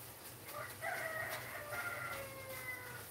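A rooster on a homestead crows once at moderate distance, a drawn-out rising and falling call standing alone over steady low background hum.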